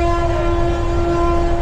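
Humsafar Express train travelling from Sealdah toward Darjeeling, a loud steady rumble with a sustained tonal horn-like hum running throughout, heard from on board.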